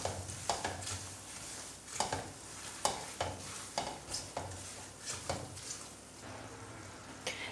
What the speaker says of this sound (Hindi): मिक्स करके सूजी को भूनेंगे और गोल्डन फ्राई होने तक